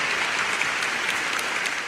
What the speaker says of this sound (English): I got to dig up a big applause because it's been a minute